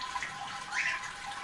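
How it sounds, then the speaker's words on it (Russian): Beer wort drains from an Easy Brew 40 automatic home brewery, giving a steady, trickling, splashing water sound that stays close and even. "Пускай сливается сусло."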